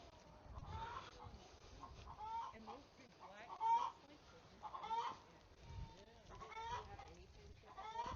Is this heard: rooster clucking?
yes